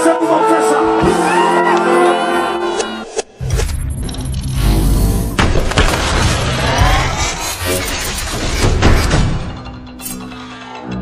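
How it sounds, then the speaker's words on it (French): A large crowd shouts and whoops loudly, a dense, continuous roar of voices that swells and dips without a break. "applaudissez pour mon frère ça"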